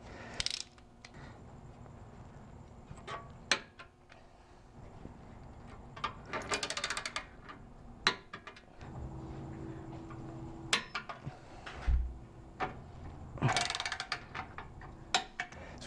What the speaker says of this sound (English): Be sure to use a torque wrench when fastening the bolts.